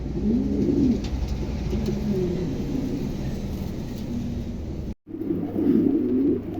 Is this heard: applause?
no